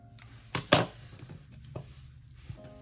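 Scissors trim a paper planner sticker up close: a few sharp, crisp snips, two loud ones in quick succession, then fainter cuts in an otherwise quiet room.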